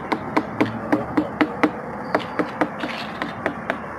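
A series of dull, hollow knocks in quick succession, like knuckles rapping on a melon, close and moderately loud over faint background noise.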